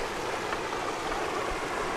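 Cold spring-fed river water rushing steadily beside a small waterfall, a dense, even wash of flowing water heard close and unbroken throughout.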